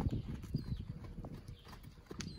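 Horse hooves move at a walk or trot around a round pen, giving a soft, close, irregular clip-clop of footfalls on the ground with no talk.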